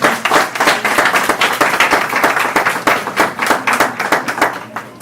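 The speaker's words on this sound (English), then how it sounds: "I want to just take a moment and applaud this grandmama" Audience applause at a lecture, a dense, steady stretch of many hands clapping close and loud for the whole five seconds with no speech.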